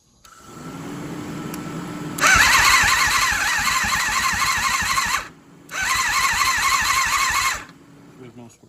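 An old motorcycle, once sold for parts, idles low at first, then catches and revs up loud and close with a rapid rumbling beat, cuts out briefly, and fires up again before dropping off.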